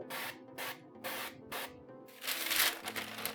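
Four short, evenly spaced hisses from an oil spray nozzle into a baking pan, followed by one longer continuous spray, close up.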